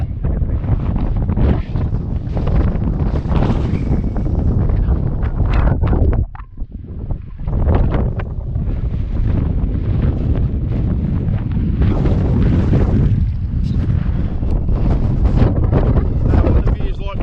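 Strong wind roars and buffets the microphone almost continuously, loud and rumbling, with a person's voice partly buried beneath it.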